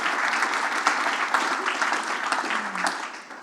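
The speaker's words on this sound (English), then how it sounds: "Give them a round of applause." Conference audience applauding at an annual conference, a steady wash of many hands clapping close and full for a few seconds before tapering off.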